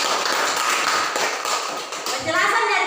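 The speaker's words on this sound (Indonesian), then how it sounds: "tepuk tangan" Students clapping in a classroom during a lesson, a short burst of hand claps with some taps and shuffling, children's voices mixed in near the microphone.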